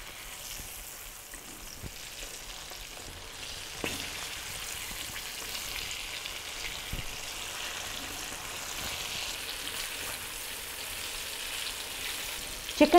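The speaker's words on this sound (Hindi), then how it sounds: "चिकन को हमने अच्छे तरीके से फ्राई कर लिए।" Chicken pieces frying in oil over medium heat, a soft continuous sizzle with occasional pops and a few louder clicks near the end, close and steady with no talking.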